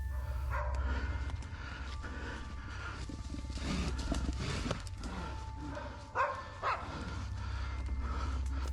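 A dog barking and yelping on a wooded trail as a massive bear attacks it and its owner, with repeated sharp barks and snarling over a constant low rumble, some louder bursts near the end.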